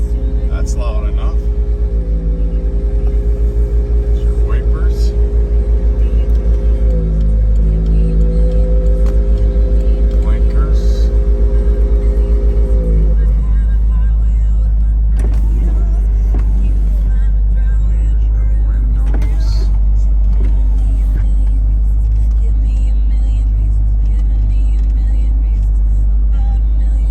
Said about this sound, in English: We're going to start up our 99 Corvette convertible.